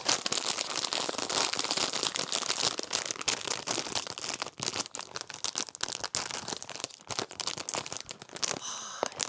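Miniso blind box packaging being torn and opened by hand, continuous close crinkling, crumpling and ripping of plastic and paper for several seconds, loud and busy with brief pauses.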